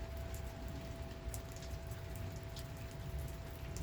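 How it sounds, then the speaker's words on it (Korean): Steady, dense rain pours down outdoors, a continuous soft hiss of drops striking surfaces with occasional brighter patters, faint and unbroken throughout with no voices. "제법 비가 쏟아집니다, 이제."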